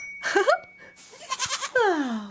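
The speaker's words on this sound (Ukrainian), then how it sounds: "Це козел, а це коза. І синочок козеня." A bearded long-horned goat bleats up close, two or three wavering cries in quick succession with a short, noisy pause between them.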